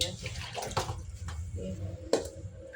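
Water splashing and trickling while small tangra fish are cut and washed at home, with a few sharp clinks and splashes, intermittent and moderately close, with a voice talking over it.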